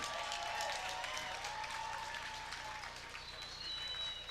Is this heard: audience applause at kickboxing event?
yes